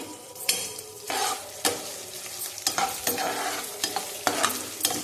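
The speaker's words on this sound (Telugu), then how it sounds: "కొంచెం గోల్డ్ కలర్లోకి వచ్చేంత వరకు వేయించుకోవాలి" Four onions fry in a pan until golden for an upma-style tiffin, with a continuous sizzle broken by sharp scraping strokes of a spatula against the pan, close and fairly loud, with no voices.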